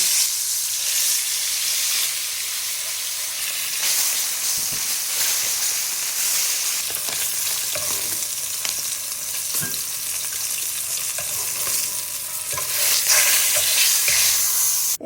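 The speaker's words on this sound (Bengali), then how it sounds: "তেলটা গরম হয়ে উঠলে এর মধ্যে আমি একে একে মাছগুলোকে দিয়ে" Hot oil sizzles and crackles continuously as fish fry in it, a loud steady hiss with occasional spits and pops, no voices.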